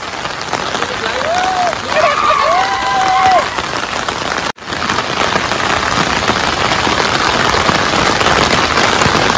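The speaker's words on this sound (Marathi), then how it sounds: "निसर्गरम्य वातावरण आणि त्यातच चिंब चिंब असा पाऊस पडताना" Heavy rain pours steadily on an off-road trip to a waterfall, a dense continuous hiss throughout, with a brief whistle-like tone early and a short dropout midway.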